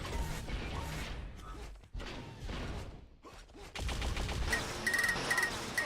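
A frantic link gun fight in Unreal Tournament 4, with continuous rapid energy-weapon fire, whooshes and mechanical clatter, loud and near, briefly dipping before surging again with bright pinging tones.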